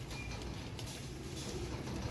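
Pigeons obtained from a breeder, Naeem Bhatti, cooing softly at a distance under a steady low rumble of background noise, with no voices.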